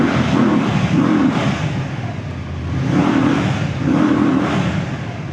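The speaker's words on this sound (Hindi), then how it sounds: "मैं थोड़ा सा रेव करके आपको दिखाता हूँ।" A Voge CU 250 V-twin cruiser motorcycle engine revs in loud, rising and falling surges with a gruff, grunty tone, several throttle blips in a row close to the listener, with no voices.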